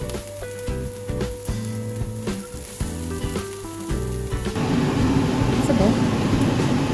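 Textured soy frying and browning in a pan, a steady bright sizzle that swells louder in the final seconds, partly under music and a person talking.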